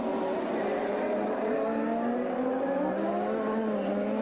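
CART open-wheel race cars on Goodyear tires scream past on the Detroit street circuit, a loud continuous roar of high-revving engines with pitch sweeping as the cars go by, with no talk over it.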